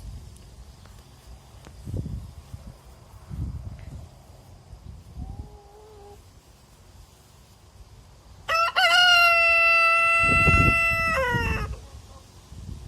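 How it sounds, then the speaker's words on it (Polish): A rooster crows loudly nearby, one long drawn-out call after some quieter clucking and scratching in a farmyard. "Jak widać kogut pieje, ładnie, ładnie pieje."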